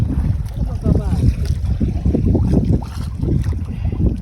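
Strong wind and choppy waves around a small fishing boat out at sea after a typhoon, a steady blustery rush with slapping water and low rumble throughout, loud and close, with a few voices in the background.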